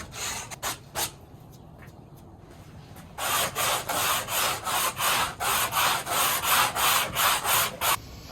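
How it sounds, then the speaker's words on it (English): Old foam scraped off a BMW headliner board, a few isolated scrapes followed by a steady run of rhythmic back-and-forth rasping strokes, close and loud with no talk. "We just scrape all the rest of the foam."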